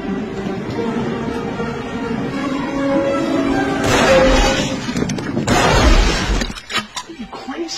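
Gunfire and shattering in a comedy scene inside a house, with heavy impacts and breaking sounds over several seconds while people shout and talk over the chaos.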